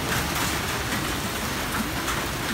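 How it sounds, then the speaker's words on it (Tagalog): Heavy typhoon rain pours down steadily, a dense continuous hiss of drops drumming on surfaces close by, with no voices over it. "Hindi po natin alam kung kailan po lihina po itong ulan na to"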